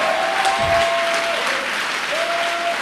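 A church congregation applauding during a sermon, a steady, full wash of clapping from many hands throughout, with a faint sustained tone running underneath.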